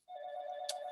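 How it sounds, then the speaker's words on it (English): A telephone ringtone sounds during an online lecture, a steady electronic tone held after a quick onset, with a brief brighter burst partway through, moderately loud and near. "here's my darn phone ringing"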